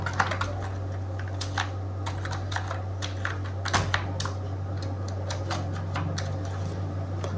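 Password being entered on a computer keyboard during an online exam application, a quick irregular run of close, crisp key clicks over a steady low electrical hum, no voices.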